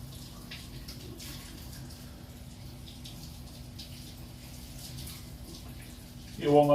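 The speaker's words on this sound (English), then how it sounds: "We get all these carcasses rinsed off and put in with this veg here." Woodpigeon carcasses being rinsed under a running tap in a kitchen, a steady faint stream of water hissing and splashing throughout, with a brief louder clatter at the end.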